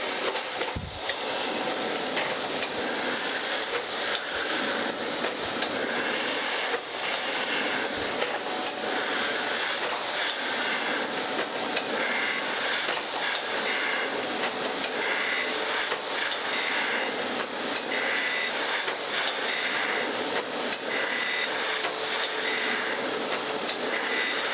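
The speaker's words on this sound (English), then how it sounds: "Now I'm going to feed it down about a thou and turn on some mist here. And we'll use the automatic feed." A metal milling machine on automatic feed cuts a cast straight edge under mist coolant, giving a continuous bright hiss and whine with faint ticking and occasional soft knocks, steady and close throughout.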